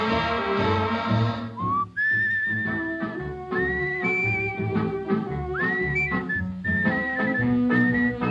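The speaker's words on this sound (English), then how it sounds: "more of that whistling." A melodic tune is whistled clearly over a soft instrumental accompaniment, with sliding notes and a steady rhythm.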